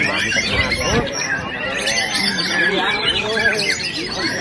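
Songbirds calling at a competitive bird song contest, dense overlapping chirps and squawks over a crowd's babble and nearby talking voices, loud and continuous.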